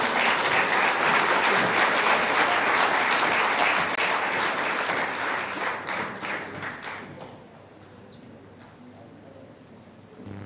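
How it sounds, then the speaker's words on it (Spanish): A crowd at a Bible seminar claps steadily and loudly, the applause holding for several seconds before fading to a low room murmur. "Recibámosles con fuertes aplausos."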